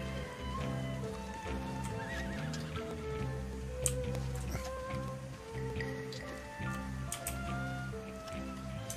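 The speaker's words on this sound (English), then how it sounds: "This poor horse." Horse in a video game whinnying and snorting amid clip-clop hooves and patter, a busy mix of animal calls and game sounds at moderate loudness with no talk.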